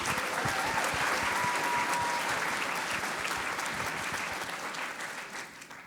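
A graduation crowd gives the class speakers a sustained round of applause, dense and loud at first and then tapering off toward the end.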